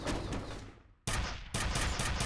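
Shotgun blasts in the game F.E.A.R., one loud boom decaying over about a second, followed by two more sharp shots in quick succession.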